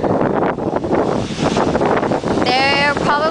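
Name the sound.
ocean waves at the beach in Cabo San Lucas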